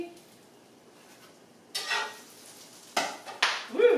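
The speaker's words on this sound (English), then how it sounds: "I hear this thing popping, so let me check our sandwich" Grilled cheese sandwich with onion sizzling in a pan, quiet background frying broken by a few sharp scrapes and clatters of utensils against the pan.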